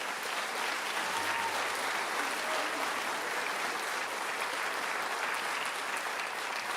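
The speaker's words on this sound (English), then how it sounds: "Give them one more round of applause" An audience claps steadily and evenly at a school orchestra concert, a dense, sustained round of applause filling the hall.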